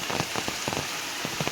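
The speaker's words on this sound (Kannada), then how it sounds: "ಇದೊಂದು ಫಾಲ್ಸ್ ಇದ್ದಂಗಿದೆ," A small waterfall in a valley during the rainy season, heard up close as a steady wash of splashing water with brief droplet-like spatters over it, with no voices.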